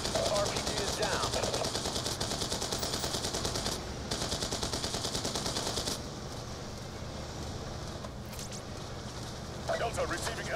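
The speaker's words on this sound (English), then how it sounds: "Delta receiving enemy fire. Vehicle Charlie taking heavy contact." Sustained rapid automatic gunfire in Call of Duty: Black Ops 2, dense machine-gun bursts crackling continuously with brief lulls, while radio-style voices talk over the shooting.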